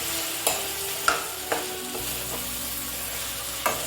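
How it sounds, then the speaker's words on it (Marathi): Marinated chicken with spices frying in a pan hisses in a steady sizzle, punctuated by a handful of sharp spatula scrapes and clinks as it is stirred, with no talking. "अशा प्रकारे आता सगळं मिक्स करून घ्यायचं"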